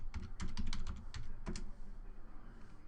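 A quick burst of typing on a computer keyboard, with close, distinct key clicks in a fast cluster, a brief pause, then a couple more taps, with no talking.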